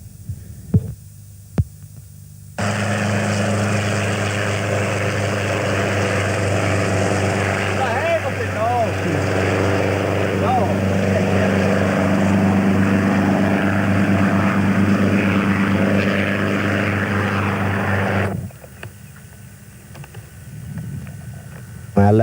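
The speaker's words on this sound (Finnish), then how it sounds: "Tämä helikopterikuljetus, niin tämä on ollut koko ajan" A helicopter used for transport at a farm in Sarakylä hovers close by, a loud throbbing rotor drone with steady low pulsing that starts abruptly, holds for about sixteen seconds, then drops away while a voice talks quietly.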